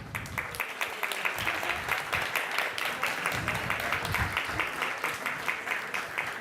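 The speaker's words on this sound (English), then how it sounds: "We can give a round of applause for each level." Audience applause at a Krishna Katha gathering honoring devotees, a dense, steady clapping that fills the whole stretch at an even, sustained loudness with no voices over it.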